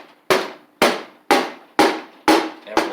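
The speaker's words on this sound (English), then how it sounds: "So I'm going to take this and just hammer it where the oil filter is." Hammer blows tapping loose an oil filter on a John Deere E100 lawn tractor's Briggs and Stratton engine: six sharp, evenly spaced metallic knocks about half a second apart, close and loud with short ringing decays.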